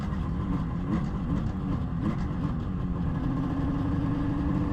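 A Moto Guzzi TS 250 motorcycle engine runs on its first start after sitting, a steady close rumble that holds an even idle throughout.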